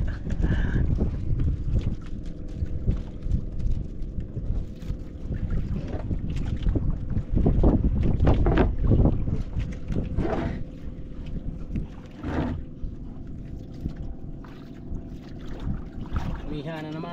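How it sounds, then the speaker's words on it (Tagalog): Strong northeast monsoon wind gusts over open water beside a small boat, roaring and buffeting loudly and steadily throughout, with brief voices mixed in. "Paihip-ihip na naman ang amihan."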